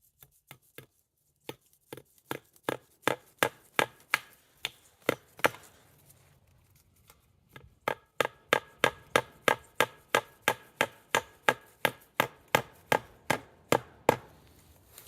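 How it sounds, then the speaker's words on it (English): A hammer drives small fence post staples into welded or woven wire fencing, giving dozens of sharp, close metallic knocks in steady runs, with a short pause before a fast, even series. "And I'll keep nailing maybe every other wire all the way up"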